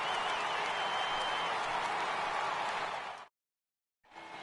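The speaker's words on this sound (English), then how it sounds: "receives a nice ovation from this home crowd" A home crowd at a ballpark in MLB The Show 18 gives a steady, full ovation of applause and cheering for a departing pitcher, then cuts briefly to silence before the crowd noise resumes.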